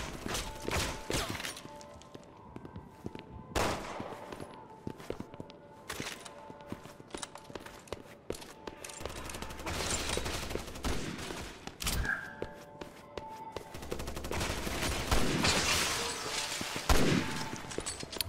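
Gunfire in the video game Resident Evil 6, rapid bursts of shots and sharp cracks scattered throughout amid mechanical clatter and background game noise, no speech.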